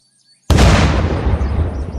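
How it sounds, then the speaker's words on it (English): In a video game, after a brief quiet, a car explodes in a sudden loud blast that rolls into a long, rumbling decay of crackling debris. "I am curious about like the car explosion. So I'm gonna shoot this car."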